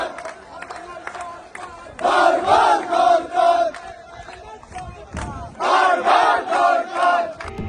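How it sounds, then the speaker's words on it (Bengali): A political rally crowd chants slogans in unison, two loud rhythmic bursts of massed voices separated by quieter pauses. "স্লোগান দেওয়া জালাল আহমেদ।"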